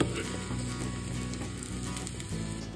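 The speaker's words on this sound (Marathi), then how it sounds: "आता हे आपल्याला एक लाल होईपर्यंत परतून घ्यायचं आहे" Chopped onion sautéing in a pan for a drumstick curry, cooked until reddish-brown, gives off a steady, close sizzle that runs evenly without pause.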